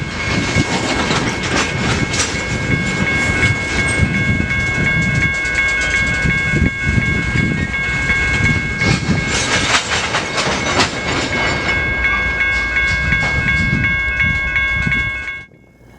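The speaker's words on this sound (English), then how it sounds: "All the train has to do is pull forward, clear a switch, wait for the conductor to flip it, back on up, grab another cut of cars" A freight train with tank cars pulls forward, its steady rumble and clickety-clack of wheels loud and close, with sustained high metallic squeals ringing over it before it fades abruptly at the end.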